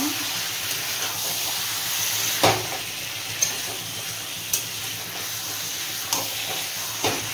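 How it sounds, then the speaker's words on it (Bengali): Mutton sautéed in a pan with a constant close hissing sizzle, punctuated by about six sharp scraping stirs of a utensil at roughly one-second intervals, moderately loud and without talk. "আবারও কষিয়ে নেব একটু।"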